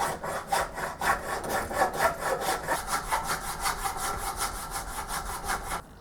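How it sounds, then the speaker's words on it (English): Steady hand-file strokes rasp back and forth on a metal nut in a machine shop, a regular rhythm of close, fairly loud scraping passes, with no talking. "I'm going to have to do some filing in order for the nut to fit"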